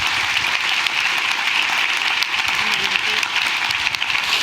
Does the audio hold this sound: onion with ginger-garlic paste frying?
no